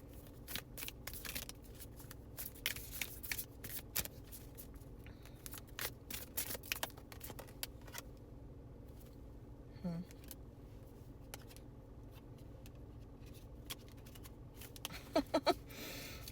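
Tarot cards being shuffled, quiet close-up riffles and soft flicks of cards in irregular bursts over a long stretch, with a few faint sounds of movement.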